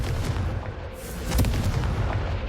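In Hogwarts Legacy, a Confringo fire spell bursts with a rumbling, booming blast and a crackling rush of flame, fairly loud and close, swelling briefly midway, with no talk.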